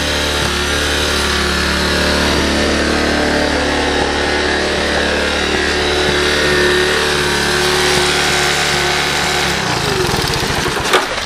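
The small single-cylinder engine of a Honda ATC 125 three-wheeler runs at a high idle, a loud continuous buzzing drone close by that cuts out abruptly near the end.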